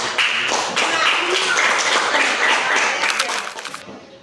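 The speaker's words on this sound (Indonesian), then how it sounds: "Oke, tepuk tangan untuk kelompok." A classroom of students claps for a group in a dense, steady burst of many hands, fairly loud and close, fading out near the end.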